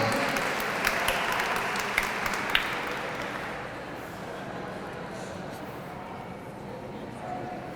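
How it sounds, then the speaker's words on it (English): An audience at a Hispanic Heritage Month opening ceremony applauds community award recipients, a broad wash of crowd clapping with a few crisp close claps that gradually fades to a softer, lingering patter amid background voices. "Let's give a round of applause to our Outstanding Community Award awardees this evening."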